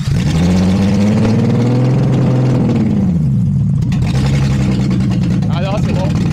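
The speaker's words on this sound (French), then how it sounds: "Alors par contre, elle démarre et cale." Peugeot 206 fitted with a VR6 engine and free exhaust starts and revs, giving a loud, raw, close-up engine roar that rises and falls with no speech over it.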